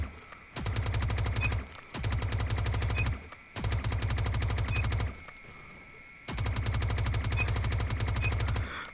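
Video game automatic weapon fired in a recoil test: four sustained bursts of rapid gunfire, each a second or more long, separated by brief pauses, loud and unaccompanied by talk.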